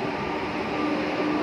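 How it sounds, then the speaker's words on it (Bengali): A Farakka–Jangipur Express train pulls into a station with a steady, close, broad rumble of wheels and carriages, and no voices over it. "এই দেখো ট্রেন চলে এসেছে"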